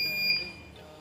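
Brief electronic beeps come from a drone's ESC as it powers up the KK2.1.5 flight controller. A couple of thin, high tones sound softly over low background hum, lasting about a second.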